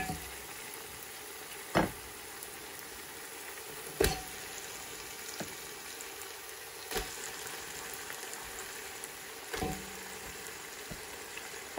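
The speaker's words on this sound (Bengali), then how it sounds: "এখন আমি ভাজা চিকেনগুলো একটা একটা করে দিয়ে দিব" Fried chicken pieces cooking in an oil-rich spice paste over medium heat, a soft steady sizzle punctuated by a few sharp clinks and scrapes of a spoon against the pan.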